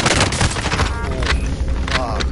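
Video game gunfire, a quick cluster of sharp shots up front followed by scattered bursts, with voices talking over it.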